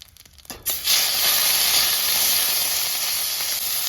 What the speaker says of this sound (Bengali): এবার দিয়ে দিচ্ছি পেঁয়াজ বাটা।